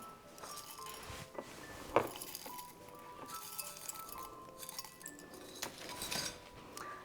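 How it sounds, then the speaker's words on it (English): A spoon scoops homemade granola into a glass of yogurt, giving close, bright clinks of metal on glass along with a rustle of loose clusters, repeated irregularly with one sharper knock. "And then we're gonna scoop in some of our delicious granola we just made."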